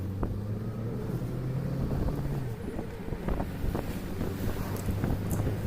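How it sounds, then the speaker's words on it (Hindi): A safari jeep races along in Bandhavgarh National Park, its engine a low drone beneath heavy wind buffeting on the microphone, continuous and fairly loud, with no one speaking. "ड्राइवर भी बहुत तेज़ चला रहा है जीप"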